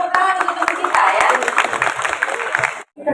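A school audience at a senior high orientation opening in Bekasi breaks into steady applause that fills most of the moment, with voices mixed in, then cuts off abruptly near the end.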